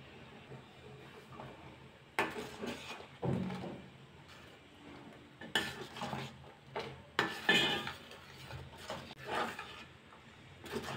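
A spoon stirs bottle gourd payasam in a metal pot close by, with irregular scraping and knocking clatters against the pot between quieter stretches.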